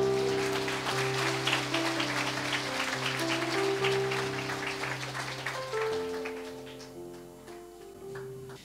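Sustained applause fills a church hall, a dense wash of clapping that stays loud for several seconds before gradually thinning and fading toward the end, with a steady tonal hum running underneath.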